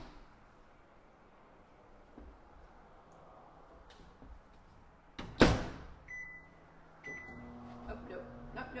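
A microwave oven hums quietly in a home kitchen, with a louder clunk or door bang midway followed by a few short beeps and continued low running noise.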